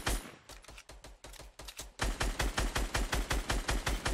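Rapid in-game gunfire from Fortnite, a PC duo match: sharp repeated shots in quick bursts, speeding into a steady loud rhythmic volley in the second half, with no talking.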